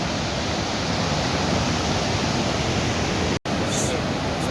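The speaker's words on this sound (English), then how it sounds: "the beauty continues to roar. in the form of falling water among these dense forests." The Iguaçu waterfalls in Brazil, set among dense forest, roar as a loud, constant wall of rushing water with one very brief dropout near the end.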